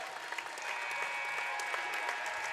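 Crowd in a high school gym applauding steadily through a basketball game between Red Bud and Carlyle, a dense wash of clapping that stays even from start to finish, with no voices standing out.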